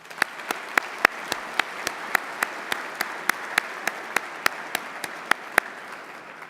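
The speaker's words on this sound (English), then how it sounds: "I'd like to give both of them a round of applause" An audience claps in steady rhythm, sharp evenly spaced claps in a near-unison beat over a low room hum for several seconds.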